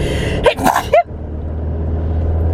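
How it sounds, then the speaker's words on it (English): A single sharp sneeze bursts out close up after a quick intake of breath, followed by a low steady rumble like a passing car. "Sunlight's gotta make me sneeze."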